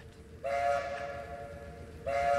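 A train in The Wolf's Den indie horror game, heard as a loud sustained whistle or horn blast that starts abruptly, holds for over a second, cuts out and returns at the end over a low rumbling background.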